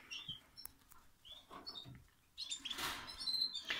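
Faint, scattered chirps and tweets from small cage birds such as goldfinches, canaries and house finches, close and intermittent, with light rustling and shuffling between calls.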